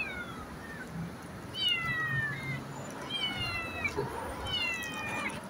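A cat meows repeatedly while being fed, giving four or five clear, drawn-out cries at a steady pace. The cries are close and prominent, and a person talks quietly in the background.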